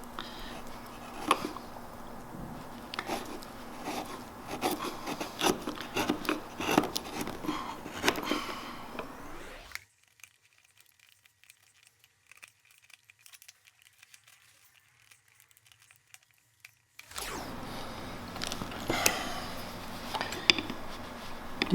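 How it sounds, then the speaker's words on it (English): A chisel pares wood fibers on the body of a Japanese hand plane (kanna), giving close, crisp scratchy shaving and crinkling cuts in uneven bursts, then a stretch of near silence before the cutting resumes. "To get into the corners, I just try and get the corner of the chisel in there, slight angle, and cut those fibers."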